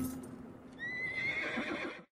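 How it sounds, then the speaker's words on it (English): Altivo, the cartoon horse from The Road to El Dorado, lets out a single loud, shrill whinny that rises and wavers for over a second, with faint clip-clop beforehand. "Altivo the Horse"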